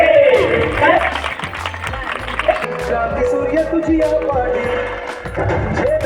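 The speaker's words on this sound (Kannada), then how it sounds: "ನಮ್ಮ ಕಿತ್ತೂರು ರಾಣಿ ಚೆನ್ನಮ್ಮಗೆ ಬರಲಿ ಜೋರಾದ ಚಪ್ಪಾಳೆ." A crowd claps loudly at a Women's Day celebration program in Yadgiri. The applause is dense and continuous, with thumps and voices mixed into the ongoing clapping.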